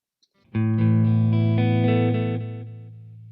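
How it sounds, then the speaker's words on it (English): A single distorted electric guitar chord rings out loud and close through a LEKATO Tank-G effects pedal set to analog delay, sustaining for about two seconds before fading into soft repeats. "So let's stick with the analog delay."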